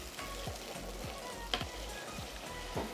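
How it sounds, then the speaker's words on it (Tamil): Sambal chili paste sautés in oil for Malaysian nasi lemak, with a faint, even sizzle and soft periodic stirring scrapes, quiet and without talk. "இந்த மசாலா கொஞ்சம் பச்சையாக இருக்குது, ஸோ நல்லா அதை வதக்கணும்."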